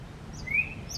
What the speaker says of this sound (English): I love how loud that bird is.